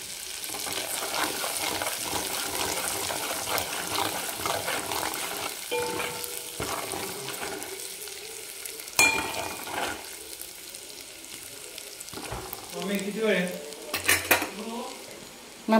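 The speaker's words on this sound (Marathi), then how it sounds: "छान मिक्स करून घेऊ, म्हणजे तेलामध्ये तळून घेऊ चांगले." Byadgi chili powder and turmeric fry in oil for a rustic mutton curry, a steady sizzle with a spoon scraping and clinking against the metal pan as the spices are stirred, continuing without talk.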